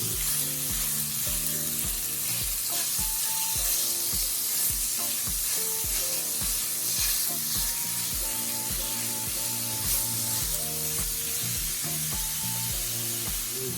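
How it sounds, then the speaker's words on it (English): Sausage frying and browning in a pan for a breakfast burrito, a continuous close sizzle with repeated scraping stir strokes, no talk over it. "So let's just get the sausage cooked down."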